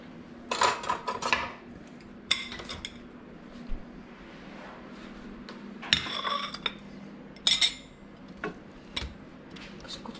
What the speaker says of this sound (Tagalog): Kailangan magkuha tayo ng plato.